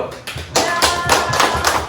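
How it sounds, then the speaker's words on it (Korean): A small group of middle school students applauds after a coding presentation, giving a brief burst of fast, close clapping that is loud and continuous for under two seconds. "자 박수!"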